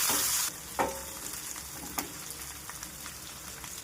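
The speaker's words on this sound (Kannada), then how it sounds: "ಸ್ವಲ್ಪ ಸಾಸಿವೆ, 1 ಈರುಳ್ಳಿ, ಸ್ವಲ್ಪ ಕರಿಬೇವಿನ ಸೊಪ್ಪು, ಸ್ವಲ್ಪ ಫ್ರೈ ಮಾಡಿಕೊಂಡು" Mustard seeds, onion and curry leaves frying for a bitter gourd palya, a steady soft sizzle with a few sharp pops and stirring clicks, close and alone.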